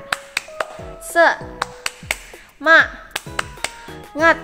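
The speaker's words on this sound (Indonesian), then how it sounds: "Yuk kita tepuk sama-sama. Tepuk semangat." Children at an online Sunday school session do the 'tepuk semangat' clapping chant: sharp, sparse claps fall in a rhythmic pattern with sung or chanted voices and bright synthetic pings in between.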